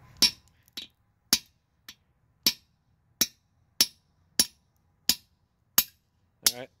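A hammer taps on a part of a 1960 Land Rover 2286 engine being stripped, about a dozen sharp, close metallic knocks at a steady, unhurried rhythm against quiet.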